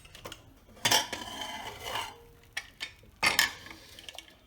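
A pressure cooker lid is opened after the cooker has cooled, with several close metallic clanks and scrapes of the lid against the pot, spaced irregularly.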